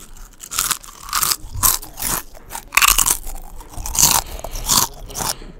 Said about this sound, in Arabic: وهسمعكم اصوات بقى الشيبسات دلوقتي